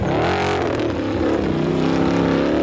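A rally car in a 2006 rally in Finland, with a broken axle on its left front wheel, roars past up close, engine note rising and falling through gear changes, loud and alone without talk.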